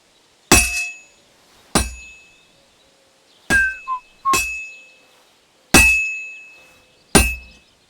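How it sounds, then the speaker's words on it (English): A hammer rings against a heated sword on an anvil in Kingdom Come Deliverance 2: six sharp, bright metallic strikes, each decaying alone, spaced unevenly about a second apart. "Now take the hammer and try hitting it a few times."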